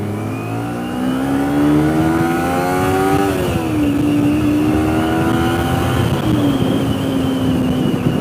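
Ford Fiesta ST EcoBoost with radiator and intercooler upgrades pulling away in traffic, a close, steady engine note climbing in pitch through gear changes, heard from a nearby motorcycle with wind rush.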